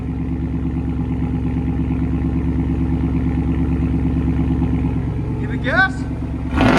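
Straight-piped RAM MOPAR V8 truck engine idling with a deep, steady, loud rumble close by, pulsing evenly throughout before a brief higher sweep near the end.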